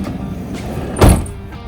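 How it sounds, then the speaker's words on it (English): A door on a 2018 Airstream Interstate GT EXT 4WD diesel camper van on a Mercedes chassis is shut with one loud, solid thud, heard nearby over a low background rumble. "Now shut the door."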